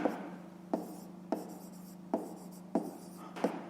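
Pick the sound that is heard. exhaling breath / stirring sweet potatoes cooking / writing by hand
writing by hand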